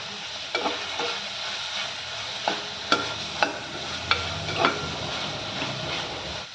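Goat intestine cooks in oil with salt and turmeric, giving a steady close sizzle with a handful of sharp spoon scrapes and clacks against the pan.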